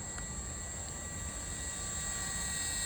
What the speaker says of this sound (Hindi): ये हेलीकॉप्टर जो है बहुत ही बढ़िया तरीके से फ्लाई हो रहा है